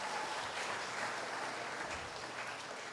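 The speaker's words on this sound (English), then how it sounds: "Another round of applause," An audience at a university orientation applauds, a dense steady patter of many clapping hands that holds at an even level and eases slightly toward the end, with no talk over it.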